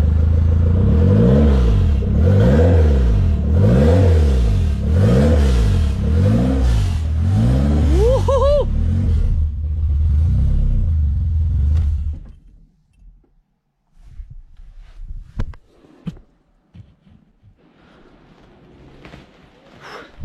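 A turbocharged Peugeot 106 engine starts up for the first time on a new ECU. It revs loudly and close in repeated rising and falling sweeps, then climbs to a final high rev and shuts off. Scattered clatter and handling noises follow.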